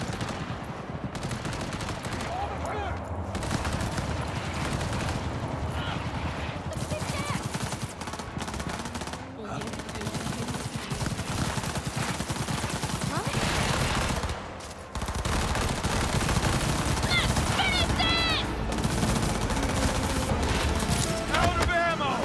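Sustained video game gunfire during a chaotic attack, dense rapid bursts and machine-gun volleys crackling almost without pause over about twenty seconds, with a brief dip midway, while shouting voices cut in beneath the shooting.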